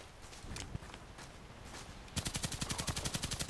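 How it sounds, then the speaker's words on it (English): RFB rifle fire in a shooter video game: scattered shots and movement sounds, then a rapid, evenly spaced burst of loud automatic gunfire closing the moment. "Do 10 long shots with RFB rifle."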